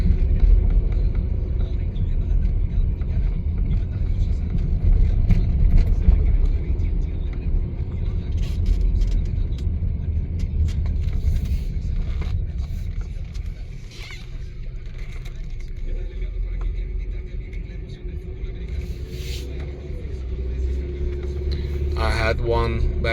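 Steady interior road rumble and engine drone from a 2011 Saab 9-5 driving along, a constant low hum that eases slightly midway, with a person speaking over it.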